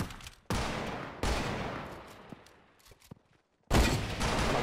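Hunting rifle shots in Fortnite Mobile, three sharp, loud blasts, each followed by a decaying rumble with quieter clatter in between.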